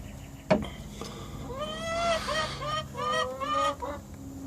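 A broody hen sitting on eggs gives a series of harsh, honking squawks and grumbling calls, close and fairly loud, after a sharp knock at the start.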